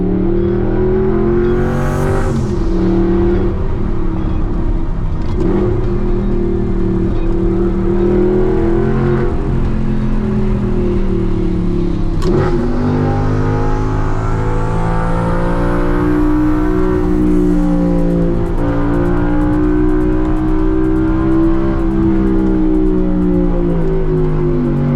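A gated manual car under spirited driving revs hard and loud from inside the cabin, pitch climbing and dropping through repeated gear changes across a long continuous run, with no talking.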